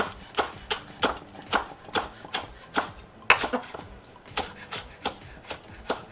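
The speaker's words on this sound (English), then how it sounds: "I am just going to chop them up." A knife chops green onions steadily on a cutting board, quick regular thuds repeating close up with no talking.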